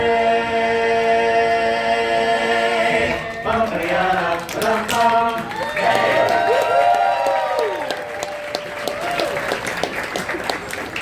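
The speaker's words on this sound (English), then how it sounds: "thanks for that applause, everybody" Audience applause and cheering for the Dapper Dans barbershop quartet on Main Street in the Magic Kingdom, following their sung harmonies, as a dense crowd of clapping swells midway and then tapers under lingering voices.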